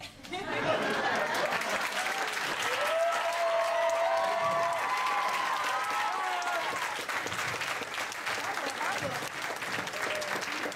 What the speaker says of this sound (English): Let's keep the applause going for all the poets that grace the stage.